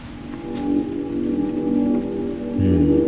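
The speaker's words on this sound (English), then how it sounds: "Can you hear the rain outside?" Rain patters steadily outside in the video game Alan Wake 2, over soft sustained musical tones, with a low thump near the end; no one speaks.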